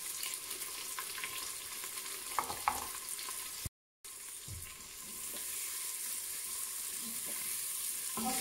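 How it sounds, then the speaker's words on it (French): Onions and a clove of garlic hit hot oil in a Cookeo pot for a quick tagine, giving a steady hissing sizzle with a few soft stirring knocks, broken by a brief dropout before the frying noise resumes. "Lorsque vous sentez que votre huile a chauffé, on va rajouter nos oignons avec une gousse d'ail."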